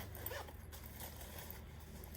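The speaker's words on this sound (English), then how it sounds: "And this zipper is very smooth." A small ball-pull zipper on a Baggallini Triple Zip crossbody bag in purple paisley slides along its track with a soft, continuous rasp, close and quiet over a low background hum.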